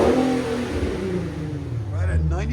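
A 2015 Infiniti Q50 with a 3.7L V6 and Flowmaster and Borla exhaust revs close by, its engine tone rising in pitch near the end. Speech and other voices carry over the engine throughout.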